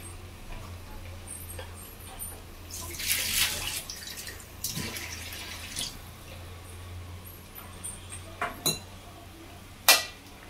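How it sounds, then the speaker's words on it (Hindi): A small splash of water poured into a pan of potato, pea and carrot curry, a brief wet burst amid faint kitchen clatter, drips and light ticking, with no talking. "अभी मेरे गाजर पके नहीं है तो मैं थोड़ा सा पानी इसमें डालूंगी"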